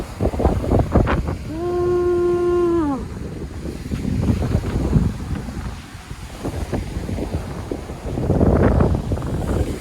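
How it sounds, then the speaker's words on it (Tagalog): Big ocean waves surge and wash onto a beach at Munting Talao-Talao Beach Resort, a broad rumbling roar that swells and recedes under heavy wind buffeting the microphone, with a brief tonal whistle early on. "Ang laki ng alon."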